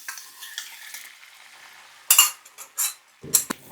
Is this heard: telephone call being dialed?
no